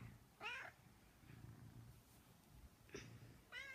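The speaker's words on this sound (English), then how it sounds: "She's a really beautiful cat." A domestic cat meows several times at close range in a quiet room, short rising-and-falling calls separated by pauses, with soft low background hum and no talking.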